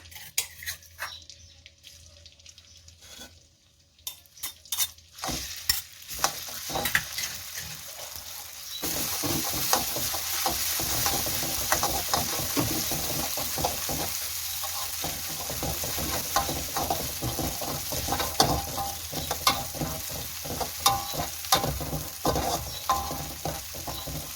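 Chilies stir-fried in a pan for basil liver: near-quiet at first with a few utensil knocks, then a loud continuous sizzle begins and runs under repeated scraping and clinking of the spatula.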